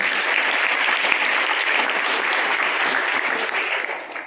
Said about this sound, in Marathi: एकदा जोरदार टाळ्या वाजवा श्रोत्यांसाठी